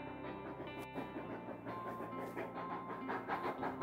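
The historic Durango train rolls into town, a faint, steady rumble of wheels and clacking cars with a sharp metallic burst near the start and rhythmic chugging pulses building toward the end.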